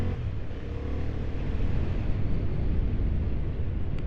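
A 2025 Honda Hornet 750 motorcycle accelerating on the road with its quick shifter: a steady, loud engine rumble blended with heavy wind noise, continuous throughout without distinct gear changes standing out.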